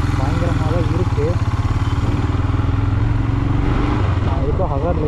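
A Royal Enfield Himalayan motorcycle ridden on a rough road, its single-cylinder engine thumping steadily and loudly throughout, with wind rush and the rider talking over it.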